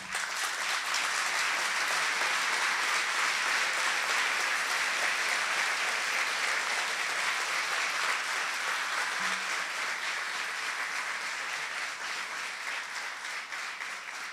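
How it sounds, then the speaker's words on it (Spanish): Sustained applause from an audience at a university ceremony installing new authorities, continuous dense clapping that holds steady for about fourteen seconds and tapers slightly at the end. "pido un aplauso para él"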